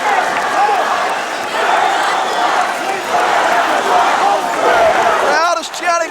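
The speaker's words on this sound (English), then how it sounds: "Crowd is chanting, we're number 1." A high school wrestling crowd in a packed gym, Paulsboro at Phillipsburg in 1999, chants together in a steady rhythmic pattern, loud and echoing, with scattered cheers and voices mixed in.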